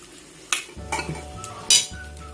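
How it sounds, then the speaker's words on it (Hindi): Tikka masala and yogurt worked together in a bowl for chicken tikka samosa filling: a few close metallic spoon clinks and scrapes over a low hum. "हम इसे पहले मिक्स कर लेंगे।"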